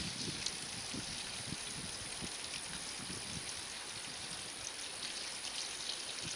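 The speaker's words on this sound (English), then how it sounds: "I like to water the garden" Water pouring and splashing steadily onto the ground as a garden is watered, with soft patters and a continuous hiss, fairly close.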